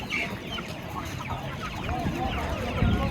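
Japanese chickens cluck and murmur close by amid a busy background of other birds and faint voices at a poultry and livestock market.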